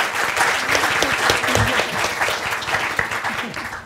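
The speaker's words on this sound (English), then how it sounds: "a warm round of applause for our speakers here today" An event crowd claps for the speakers, a full round of applause with the occasional cheer or voice poking through. It stays fairly loud and close, then eases slightly toward the end.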